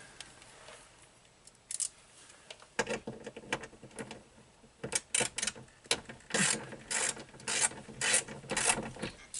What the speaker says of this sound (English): I'm going to loosen this guide right here. There's a 10mm headed bolt on the bottom side.